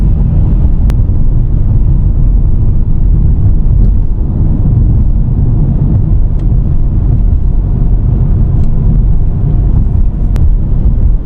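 Steady, loud low rumble of a car driving along the Gunflint Trail in the forested Northern Minnesota Arrowhead, a continuous road and engine drone with no talking.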